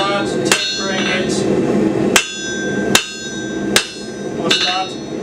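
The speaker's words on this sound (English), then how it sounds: "come here to the near side of the anvil and start tapering it" Hammer blows tapering hot steel on an anvil during leaf keyring forging: five sharp, ringing metallic strikes spaced roughly a second apart, close and loud over a steady background hum.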